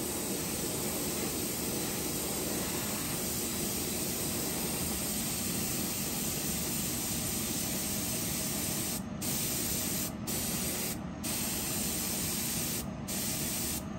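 Spray gun laying a coat of UV paint over the whole body of a fishing lure, a steady loud hiss running unbroken throughout with a fan likely whirring alongside.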